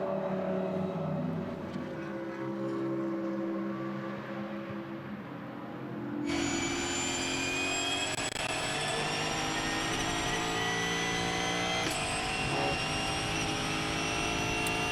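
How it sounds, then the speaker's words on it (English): A Mercedes-Benz SLS GT3 race car at the Red Bull Ring during a GT Masters race roars loudly at high revs. A steady engine note climbs sharply as the car passes close by. There is no talking. "Here comes the number 42 HP Racing Mercedes-Benz SLS."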